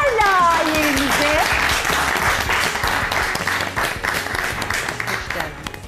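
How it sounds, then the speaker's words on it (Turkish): Studio audience on a cooking-competition show claps enthusiastically, a dense, sustained burst of applause mixed with whoops and excited voices near the start, gradually easing off. "Alkışlarla yerinize."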